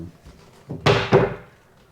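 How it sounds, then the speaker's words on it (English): A shower door on a sailboat swings shut and catches on its magnets, giving a single close, sharp thunk with a brief rattling tail, heard up close in a small cabin. "This is actually the front cabin door, and this is the shower door. It sits on magnets."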